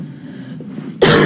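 A single loud, close cough bursts out abruptly at the end after near silence.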